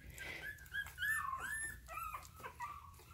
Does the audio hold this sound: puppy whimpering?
yes